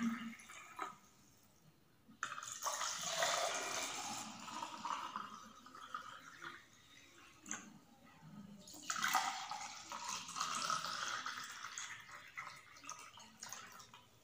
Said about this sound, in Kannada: ನಾನೀಗ ಸರ್ವ್ ಮಾಡ್ತಾಯಿದ್ದೀನಿ. ಗ್ಲಾಸಿನ ಕಪ್ಗೆ ಹಾಕ್ತಾಯಿದ್ದೀನಿ.